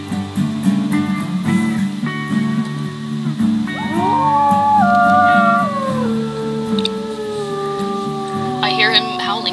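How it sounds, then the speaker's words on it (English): Wolf howl from the WolfQuest video game, a long rising and falling wail that carries in the distance over steady background game music and tones, with someone talking at the start. "I hear him howling in the distance"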